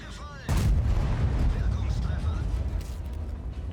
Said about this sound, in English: He has just fired.